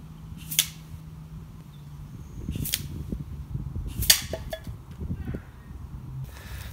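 Sharp snapping shots from a Gamo Phox air rifle, about four distinct cracks spread over a few seconds, fairly close, with low background noise and faint movement between shots.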